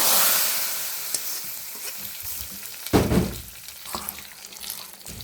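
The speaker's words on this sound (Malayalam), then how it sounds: "കടുവെല്ലാം പൊട്ടി നമ്മൾ കടു വറുക്കുക പരിപ്പിനകത്തോട്ട് ഒഴിക്കുകയാണ്" Mustard seed tempering poured into a lentil curry, a loud sizzling burst that fades, then a sharp second hiss as the hot oil hits, close up with light stirring sounds.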